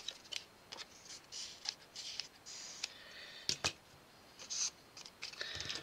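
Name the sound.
cutting with scissors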